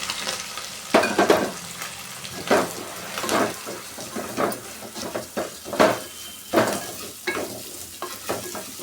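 Broken wheat and moong dal mix, with onion, garlic and curry leaves, is fried and stirred in a pan for pongal: a spatula scrapes and stirs in irregular strokes over a soft sizzle, close up, with no talking.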